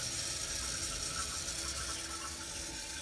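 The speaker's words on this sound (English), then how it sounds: "This is the inaugural flush." A new Kohler toilet flushes for the first time, a steady gushing rush of water through the bowl, fairly quiet and close, continuous for the full few seconds.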